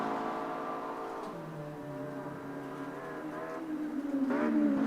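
A GT3 race car engine in a racing video game drones steadily at high revs down the back straight, its pitch shifting slightly and then climbing near the end, continuous and fairly close with no talk.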